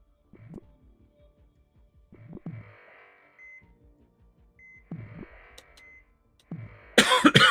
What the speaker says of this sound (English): Oh my god, you guys heard me cough?